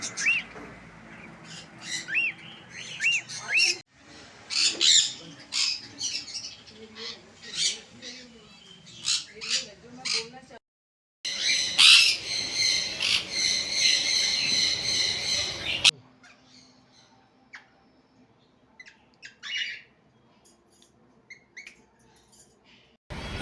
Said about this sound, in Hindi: प्यारे प्यारे तरह तरह के तोते, अभी छोटे बच्चे हैं